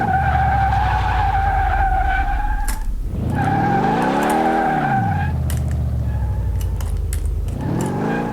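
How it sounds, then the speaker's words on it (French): A powerful car in the Car Mechanic Simulator game skids, its tires squealing in long, wavering shrieks over a revving engine note that rises and falls, loud and close, with a brief break before the squeal resumes. "Ça, on dérape tout de suite."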